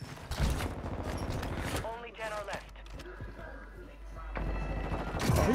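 Rapid gunfire bursts from a Call of Duty MW2 Warzone match crackle loudly across the scene, interleaved with excited voice chat and game noise throughout.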